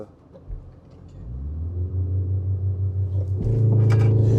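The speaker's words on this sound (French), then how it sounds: "Pied gauche sur le frein. Launch carrément." A BMW M135 (F70) launches from a standstill using launch control, its engine note climbing steadily from a low rumble to a loud, strained drone heard from inside the cabin.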